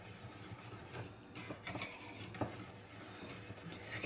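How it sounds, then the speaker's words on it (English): A cinnamon roll bread pudding mixture is whisked in a slightly too-small bowl, giving a steady close-up scraping swish broken by quick clicking taps of the whisk against the bowl, with no voices. "So we just want to get this whisked up"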